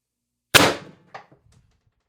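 A single sharp crack from a Pistelle X-68 CO2 air pistol, fed by heated CO2, rings out close and loud, followed by a fainter metallic clink and a few small rattles as it dies away.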